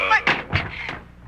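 A billiard cue dropped as a radio drama sound effect, a few hollow wooden clatters and thunks over about a second, close and fairly loud with a dull low thud in the middle.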